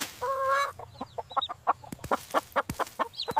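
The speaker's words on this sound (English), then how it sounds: "With a cluck cluck here and a cluck cluck there." Hen clucking in a farmyard, a quick run of short, close clucks in an uneven rhythm, opened by a longer drawn-out squawk, with no talk over it.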